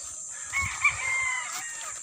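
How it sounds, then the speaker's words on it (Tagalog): A fighting rooster crows once nearby, a drawn-out, clear call over a faint steady background hiss. "Manok panabong."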